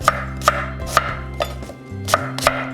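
A knife chops steadily through an apple on a cutting board, six firm, evenly spaced thuds with a short pause near the middle.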